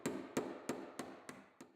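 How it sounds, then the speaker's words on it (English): Flat-faced body hammer tapping down a high spot on car body panel during block sanding, six sharp metallic taps at a steady, unhurried rhythm, close and clear with no talking. "I tap down the high spot"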